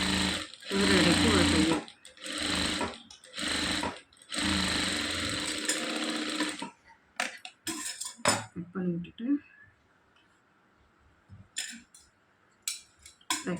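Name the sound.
sewing machine stitching blouse front part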